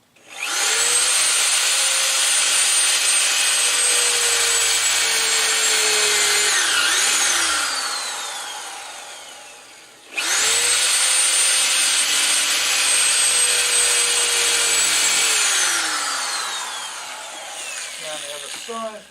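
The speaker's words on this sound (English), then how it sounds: "I'm just going to drill a couple of pilot holes in to screw it in." Close-up power drill runs steadily to bore pilot holes in a wooden window frame while a garden shed is built. Two long, loud whines are separated by a brief pause, each winding down at the end.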